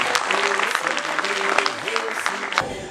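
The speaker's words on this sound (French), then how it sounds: "je voudrais leur adresser un grand bravo et s'il vous plaît des applaudissements pour eux" An audience at a national graduates' day ceremony claps in a dense, continuous burst, with voices audible through the applause.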